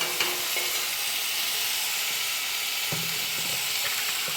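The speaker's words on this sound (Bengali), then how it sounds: "আলুটা ভেজে নিচ্ছি" Potatoes frying in a pan alongside black and green lobia beans make a steady, close sizzle with faint stirring scrapes throughout, and nobody speaks.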